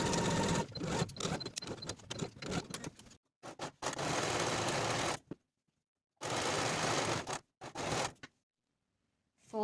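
Sewing machine stitching fabric seams at a 3/8 inch allowance for a boxy top, running in loud, close bursts of rapid needle chatter separated by short silent pauses.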